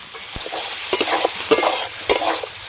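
Potatoes sautéed with spices and chopped tomato in a pan for a fish curry, close stirring scrapes over a bubbling sizzle, loud and busy over a short stretch with no talk.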